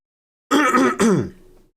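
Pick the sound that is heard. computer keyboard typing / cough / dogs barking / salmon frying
cough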